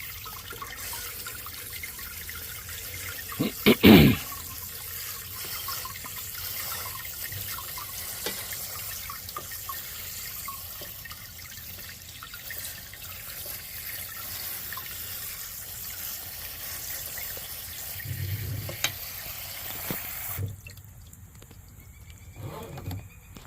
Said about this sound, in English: I'll go until the container's full of water.